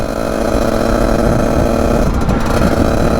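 A motorcycle engine roars loudly and continuously, revving high with a buzzing, raspy tone throughout.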